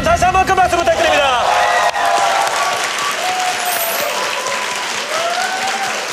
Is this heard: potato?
no